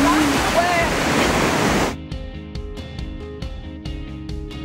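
Ocean surf washes loudly onto a Stradbroke Island beach for about two seconds before cutting out, and a quieter stretch of faint clicks and taps follows.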